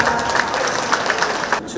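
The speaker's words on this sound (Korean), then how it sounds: "이분들께 큰 박수 한번 부탁드립니다." Steady, fairly loud audience applause rings out at an art fair opening ceremony in Daegu, a continuous wash of clapping with voices mixed in throughout the short burst.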